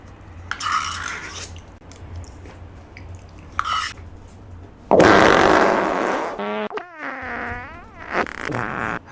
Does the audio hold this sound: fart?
yes